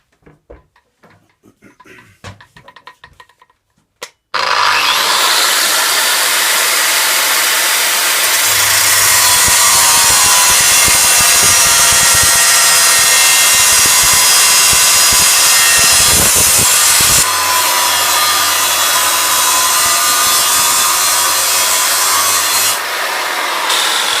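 A 12-inch grinder cuts through metal, a loud close continuous whine that starts abruptly after a few seconds of quiet handling knocks and holds steady for about twenty seconds.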